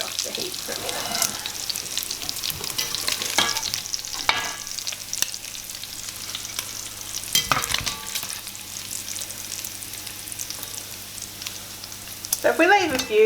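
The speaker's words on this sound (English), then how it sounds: "use like a slotted spoon to try and get the bacon out, but leave the fat in the pan" Bacon crackles and sizzles in its rendered fat as a slotted spoon stirs and scrapes through the pan, with intermittent metallic clinks and scrapes over a steady close-up frying hiss.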